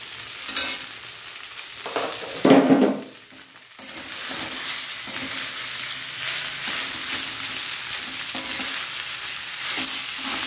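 Boiled, chopped arbi (taro root) with a pinch of hing fries on low simmer heat in a pan for a South Indian dish. A steady close sizzle continues throughout, with a brief louder stirring scrape early on.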